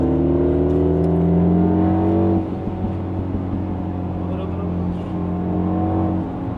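A MINI John Cooper Works engine drones loudly at full throttle with rising harmonic pitch, then drops to a rougher, lower roar as it keeps pulling, heard from inside the car.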